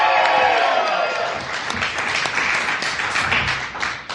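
Live podcast audience at a Philadelphia podcast festival applauding and cheering, a dense wash of clapping that is loudest at the start and slowly thins over several seconds, with crowd voices mixed in.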